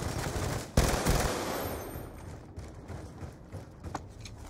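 Peacekeeper submachine gun fire in a video game, a sharp burst near the start followed by rapid, fainter crackling shots that keep going under a low background wash.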